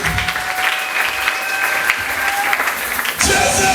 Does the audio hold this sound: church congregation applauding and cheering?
yes